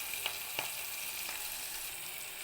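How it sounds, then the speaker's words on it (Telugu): Curry leaves and green chillies fry in a pan with a steady, soft sizzle and a few faint pops or stirring taps, heard on their own without talk. "కరివేపాకు అయితే వేసిస్తున్నాను చూడండి మిర్చి అయితే బాగా కుక్ అవుతున్నాయి"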